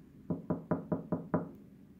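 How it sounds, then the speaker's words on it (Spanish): Six quick, evenly spaced knocks on a door land sharp and close in a steady run, then stop. "El ángel llamó a la puerta"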